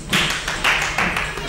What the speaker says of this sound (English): and then add a clap in there